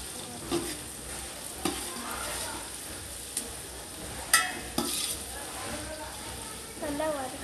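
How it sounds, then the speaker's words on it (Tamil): Onions being stirred and sautéed in a pan for mutton biryani, a faint steady sizzle punctuated by occasional spoon scrapes and clinks, quiet and close, with a voice speaking briefly near the end. "இப்போ நம்ம நல்லா வதக்கிக்கலாம்"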